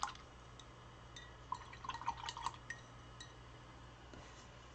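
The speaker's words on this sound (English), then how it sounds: "Now I'm going to rinse my paintbrush here." A paintbrush used for painting a rock is swished and rinsed in a container of water, giving soft drips, light splashes and small glassy clinks in a quiet room.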